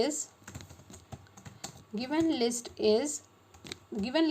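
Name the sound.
typing code on a computer keyboard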